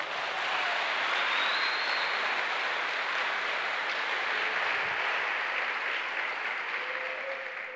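Church congregation applauding during a sermon, a broad, continuous wash of clapping and crowd noise at steady loudness throughout, with faint whistles or cheers riding above it and no distinct speech.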